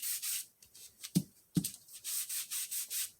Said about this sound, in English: I'm just going to rub the sides a little bit